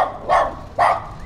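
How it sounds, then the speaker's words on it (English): Dogs bark at passersby while chasing them off a street in a Mexican neighborhood: two short, fairly loud barks about half a second apart, with no talking. "They're barking at us, chasing us off the street."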